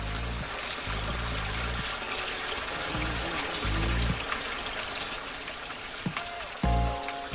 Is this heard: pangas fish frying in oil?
no